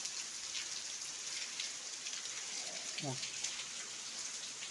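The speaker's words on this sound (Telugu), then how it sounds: "వర్షం కొంచెం తగ్గుముఖం పట్టింది" Rain pours steadily at a temple, a soft continuous patter of drops on surfaces, with a faint brief voice-like sound rising near the middle.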